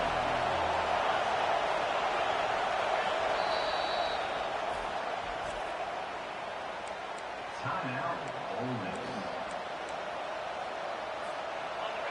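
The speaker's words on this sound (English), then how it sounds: "Decibels rising as the crowd gets behind this defense on 3rd down." A college football stadium crowd roars on a third-down defensive stand, a loud continuous wall of cheering and noise that holds steady, then dips slightly toward the end.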